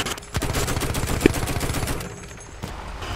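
Rapid bursts of gunfire from the World War I shooter Battlefield 1, a fast rattling volley running nearly the whole time, loud and close, with a heavier single shot near the end and no talk.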